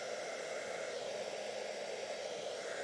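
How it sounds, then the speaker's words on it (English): A blow dryer held in one hand while painting runs with a steady, even whoosh from start to finish, with no breaks and no voices. "I need to make sure I hold the blow dryer with my right hand"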